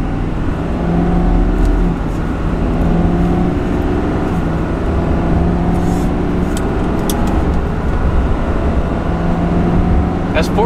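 Steady, loud diesel drone of a GMC Sierra Duramax pickup towing about 14,500 pounds downhill in first gear, an even engine hum holding throughout with little change.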